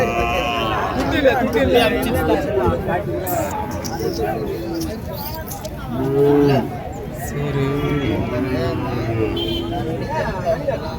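Native cattle at a rural Tamil Nadu cattle market in Madrapalli, Tirupattur, with repeated loud moos rising over steady crowd chatter and background voices throughout.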